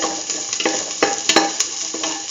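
Sauté mix of garlic and ginger frying for a potato chayote stew, sizzling steadily in the pan while a utensil scrapes and stirs it in several quick, close clattering strokes.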